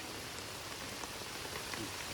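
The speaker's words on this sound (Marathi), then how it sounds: "तर जोरान पाऊस आले खतरनाक एकदम" Heavy rain falls close by at a farm, a dense, even hiss of drops pattering on a surface with no pauses or voices.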